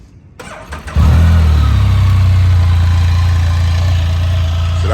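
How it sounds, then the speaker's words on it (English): A 2022 Can-Am Spyder F3S three-wheel motorcycle cranks briefly at night, then its engine catches with a loud burst and settles into a steady, deep, throbbing idle close by. "let me start the bike up real quick."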